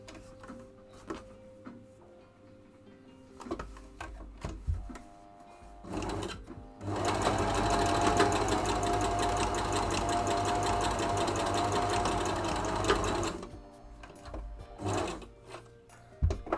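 A sewing machine stitches shorts in one continuous fast whirring run of about six seconds, close and fairly loud, framed by quieter handling clicks and fabric rustles before and after.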